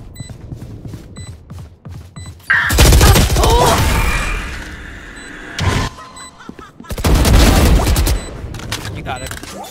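A Swarm grenade in the Valorant video game bursts in two long loud rattling volleys of rapid explosive pops, separated by a quieter gap with a short burst between, over lighter game sounds.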